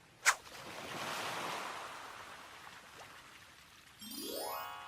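River water sound effect in a Korean folktale audiobook: a soft, steady wash of flowing water, faint and continuous, opened by a bright chime and ending with a rising tonal sweep.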